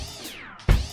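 A synth tone in Kontakt sweeps in pitch under sine LFO modulation, a brief bright wavering note followed by a sudden louder burst, under one second long.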